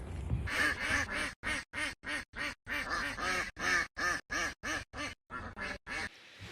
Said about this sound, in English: we need to go look at baby ducks swimming